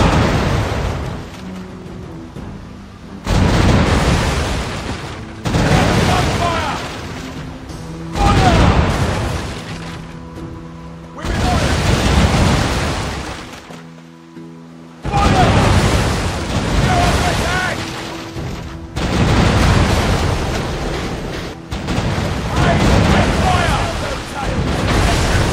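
Repeated booming cannon fire and explosions in a low-spec PC naval battle game, loud heavy blasts recurring every few seconds over a steady rumble, with shouted voices between volleys.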